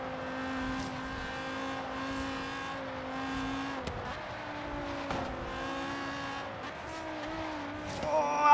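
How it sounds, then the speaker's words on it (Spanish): Tires squeal and skid under a revving engine in Forza Horizon 3 racing on Xbox Series X, with sustained screeching tones that shift pitch as the car slides through a corner. "Las patinadas tan exageradísimas que se mete."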